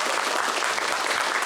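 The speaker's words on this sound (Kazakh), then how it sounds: "Мен танитындар бар ма? Шапалақ соқсыншы." Audience at a stand-up improv comedy show claps steadily, a dense continuous applause from a crowd filling the whole moment without any talk over it.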